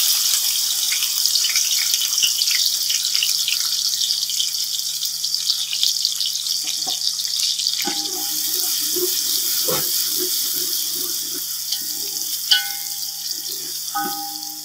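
Three chopped onions frying in a few spoonfuls of oil for beef tikka pulao, a steady broadband sizzle running throughout with occasional faint clinks and stirring scrapes, and no talking.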